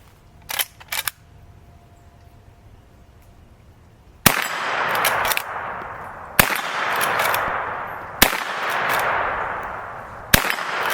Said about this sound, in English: So let's see how this Rossi 92 will shoot.